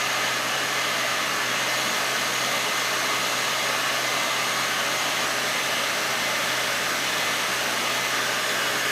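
A heat gun blows hot air over a bent arm rail, giving a loud, steady, unbroken whooshing hiss that holds at the same level from start to finish, with no voices.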